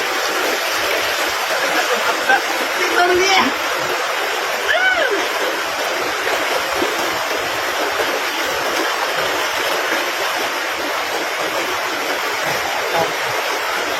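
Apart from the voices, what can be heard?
strong river current flowing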